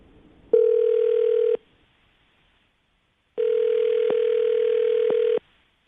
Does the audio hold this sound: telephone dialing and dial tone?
yes